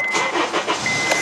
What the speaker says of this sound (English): start the engine, turn the AC